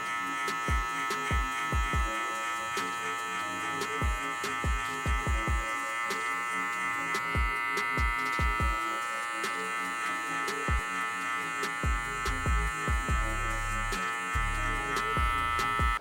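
Electric hair clippers fitted with a 3 guard cut hair during a barbershop mid fade, giving a steady buzzing hum with repeated short strokes against the head, close and continuous throughout.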